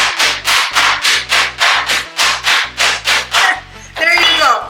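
Pork tenderloin pounded flat in a kitchen with a tool: about a dozen steady, evenly spaced strikes in quick rhythm, close and fairly loud, ending with a brief rustle.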